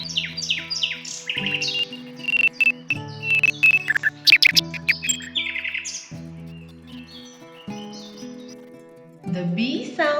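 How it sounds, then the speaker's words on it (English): A nightingale sings bright, rapid chirps and warbling phrases, repeated in bursts over sustained tonal backing sounds and fairly loud throughout. "The nightingale sounds as sing, sing, sing."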